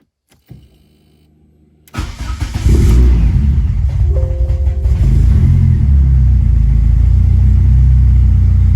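A Ford RS Turbo engine cranks and catches after a brief quiet pause, then settles into a loud, deep, close rumble that rises and holds with revving, alone with no voices.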